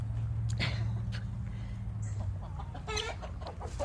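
Backyard flock of hens and two young roosters clucking nearby, a steady murmuring chorus with occasional sharper calls and a brief squawk near the end, and a voice talking faintly underneath.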